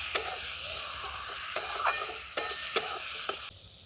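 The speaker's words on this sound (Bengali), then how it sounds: "পেঁয়াজ আর টমেটোটাকে আমি ভালো করে ভাজা ভাজা করে নিচ্ছি" Onion and tomato frying in a pan for a katla fish kalia, a steady low sizzle with several sharp scraping strokes of the spatula at irregular intervals, close up and with no voices.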